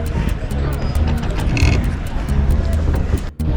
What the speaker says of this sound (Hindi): ट्रैफिक के बीच से निकलते हुए